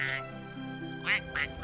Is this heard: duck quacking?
yes